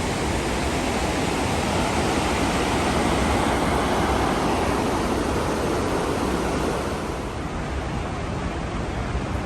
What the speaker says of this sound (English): Crazy amount of water through here right now.